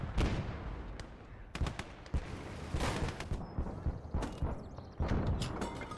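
Machine gun fire in the game Gates of Hell, sharp bursts of gunfire and heavy impacts breaking out in irregular clusters over a low battlefield rumble, with faint talk underneath.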